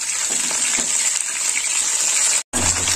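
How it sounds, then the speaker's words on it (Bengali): Fish heads frying in oil in a pan for palang curry, giving a steady, bright, close sizzle throughout that cuts out briefly near the end. "মাছটা একটু লাল লাল করে ভাজা হোক।"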